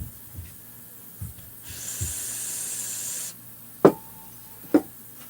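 Aerosol brake cleaner hisses in a steady spray across a motorcycle 266 crankcase for about a second and a half, between faint clicks and two sharp knocks close by.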